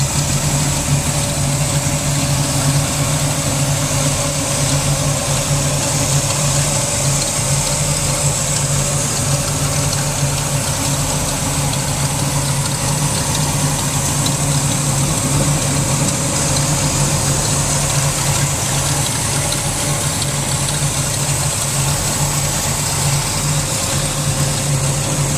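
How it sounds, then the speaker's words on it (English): A 1978 Chevy Malibu's 350 V8 engine idles close by with a steady, loud, even rumble and hum that holds unchanged for the whole stretch, with no talking. "Here's a 350 V8 engine."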